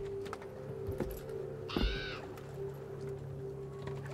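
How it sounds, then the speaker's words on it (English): A raven caws once in a harsh, quick burst in the Assassin's Creed Valhalla video game, heard over a steady hum of wind and game ambience. "Odin's raven."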